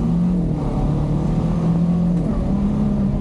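A Honda Pioneer 500 side-by-side with a dual clutch transmission runs loud and close, its engine drone dipping and shifting pitch as the gearbox changes gear partway through.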